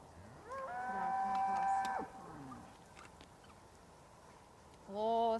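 Several cows moo loudly nearby, one long drawn-out low call followed by a quieter one and another beginning at the end, over faint farmyard background.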